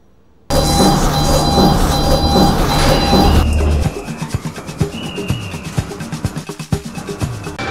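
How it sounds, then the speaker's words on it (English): Lift going down, a loud steady mechanical hum with a low rumble that gives way to a rattling, clicking rhythm as the car moves, heard close and without talk. "Lift going down"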